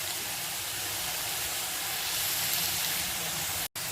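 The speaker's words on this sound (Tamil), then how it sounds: "கொஞ்சம் லைட்டாக வதங்கட்டும்" Garlic, ginger and green chili sauté in a pan for potato masala bonda filling, a dense continuous hiss and sizzle held steady and close, cut by a brief silent gap near the end.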